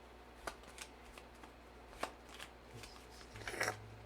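A deck of playing cards is shuffled at a tabletop game session, giving soft, close riffling bursts and a few sharp snaps and flutters, fairly quiet with no talk.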